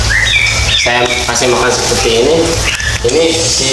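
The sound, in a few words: bird chirping near fish pond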